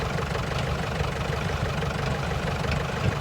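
Tractor engine running at a steady idle, a close, even low rumble with a knocking texture and no voices.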